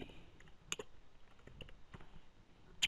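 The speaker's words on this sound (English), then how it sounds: "Okay, so I will now type a message and you will see how the chat works." Sparse, faint clicks of a computer keyboard as a chat message is typed, irregular taps spread out over a few seconds with a slightly louder cluster at the end, in a quiet room.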